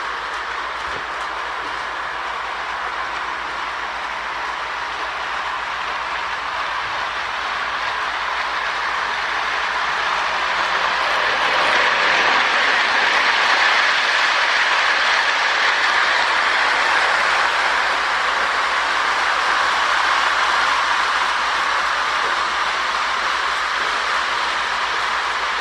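A Marx 21 toy diesel locomotive with traction tires pulls Super Chief cars around a track, a loud, continuous whirring hum and rattle that swells as it passes closest midway, then holds steady.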